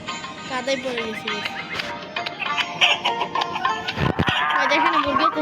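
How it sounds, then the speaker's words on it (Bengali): Chickens clucking around a muddy poultry yard, with several close clucks mixed with people talking throughout and some splashy, rustling handling noises. "এই যে আমাদের মুরগি।"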